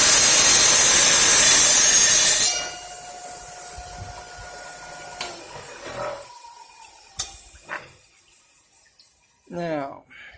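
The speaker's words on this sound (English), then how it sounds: "First thing I'm going to do is I'm going to cut this piece here at the 45" A saw cuts a 45 degree angle through a piece of wood trim: a loud, harsh whine for a couple of seconds stops abruptly, followed by faint knocks and handling noises.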